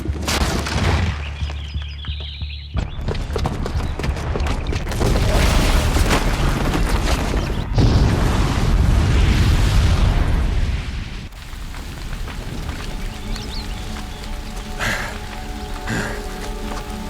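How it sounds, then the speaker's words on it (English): A booby-trapped bomb goes off in Horizon Zero Dawn, a loud sustained rumbling blast with crackling debris that swells around the middle and then settles into lingering rubble and ambient noise. "the booby trap on the bomb downstairs is gonna get set off"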